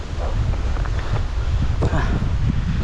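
Wind gusts across the microphone on a mountain trail run, a loud continuous rumbling buffet with faint voices and movement sounds mixed in.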